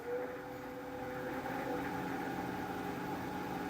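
A metal lathe turning a ring at roughly 1800 to 1900 RPM gives a steady, even mechanical hum with a sustained whine, running continuously with no talk.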